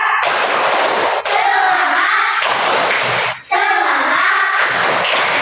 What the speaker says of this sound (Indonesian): Ya, tepuk semangat untuk kelompok tiga.